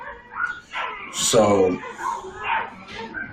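A dog gives a few yips and whimpering barks close by, with a louder bark in the middle, while a person speaks briefly over it.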